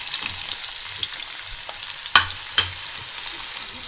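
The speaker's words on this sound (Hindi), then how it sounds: "सबसे पहले मैं प्याज को फ्राई करूंगी" Onions frying in hot oil in a kadai, a loud close sizzle with steady crackle, stirring scrapes and a few sharp spatters, with no speech.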